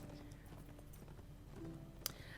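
Horse hooves clip-clop in The Lord of the Rings Online, a quiet, steady rhythmic patter of hoofbeats over faint ambient game background.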